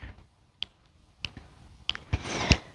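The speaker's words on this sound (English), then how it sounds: "so snap a couple times" A few sharp finger snaps at uneven intervals, close and crisp, with faint rustling between them.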